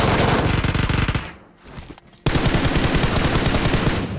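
Rapid automatic gunfire in the PUBG Mobile video game, loud, dense bursts that stop for about a second and then resume just as fiercely.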